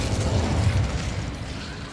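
An Incendio fire spell cast in Hogwarts Legacy produces a dense, steady roaring burst of flame with a low rumbling body that stays loud throughout and eases slightly at the end.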